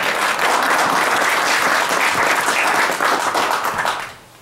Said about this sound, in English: So big round of applause for all the Aurora operators.